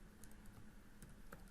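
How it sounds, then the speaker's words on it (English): Faint typing on a computer keyboard: a few sparse, light key clicks spaced irregularly against a quiet room background. "just typing"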